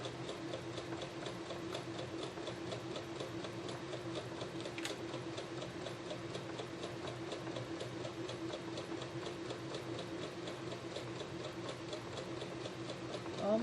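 A sewing machine stitches a seam through quilt fabric, running in a fast, steady mechanical rhythm of needle ticks with a low motor hum, close and continuous with no talking.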